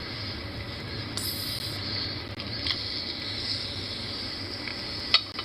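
A steady, fast sizzling hiss, like food frying in a hot pan, runs close and even throughout, with a faint clink near the end.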